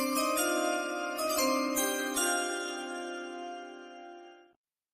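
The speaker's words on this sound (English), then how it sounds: "I believe we are just about ready to go as we fire up the draft chimes for Mark Tatum for the New Orleans Pelicans" The NBA draft chimes ring out as a bright, sustained run of bell-like tones, each strike ringing over the last before slowly fading to silence.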